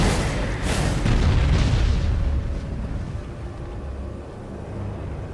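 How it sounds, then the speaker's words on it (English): A massive red explosion bursts after an NPC dies in the Elden Ring video game, opening with a loud, deep booming blast that rumbles for about two seconds and then fades into a lower, lingering roar. "Massive red explosion, which you don't get from all the other NPC deaths."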